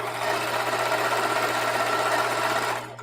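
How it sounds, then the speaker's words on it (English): A sewing machine stitches a mitered binding onto mudcloth with a loud, continuous, fast mechanical whirr that runs steadily and then eases off at the end. "So I will just be sewing"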